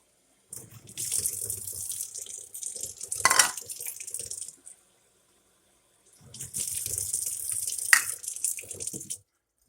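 Tap water runs into a measuring cup for sourdough bread in two steady bursts of hissing flow, each a few seconds long, with a short quiet gap between them.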